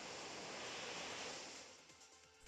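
A Waterfall attack effect from the Pokémon Ultra Sun & Moon video game gives a rushing, surf-like wash of water that swells loud and then fades out over a couple of seconds.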